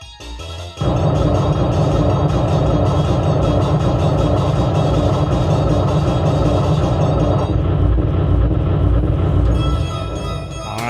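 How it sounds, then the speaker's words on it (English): A Twilight Zone pinball machine runs its Lost in the Zone mode, giving a loud, dense, continuous wash of music and machine sounds that carries on without a break. "let you hear Lost in the Zone"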